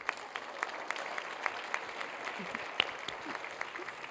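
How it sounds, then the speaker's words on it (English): Steady applause from a crowd, dense clapping that fills the room at an even level, with a faint voice underneath. "let's give each other another big round of applause for Grady"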